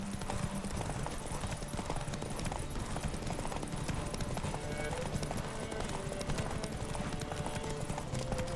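Hooves of Geralt's horse Roach clip-clopping in a rapid galloping rhythm during a race in The Witcher 3, with game voices talking over the hoofbeats.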